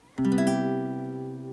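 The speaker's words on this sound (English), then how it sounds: "So this is the sound of a major 7." A guitar chord strummed once, notes rolling in quickly from low to high, then ringing out steadily and slowly fading. Bright, jazzy major-seventh color, no voices.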